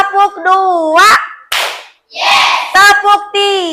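Children in a classroom clap hands in a counted rhythm as a teacher leads, sharp claps alternating with young voices chanting along.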